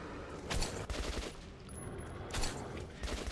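Rapid bursts of video game gunfire crackle in repeated volleys, fairly loud and continuous across the clip, with short gaps between strafing runs and no talking.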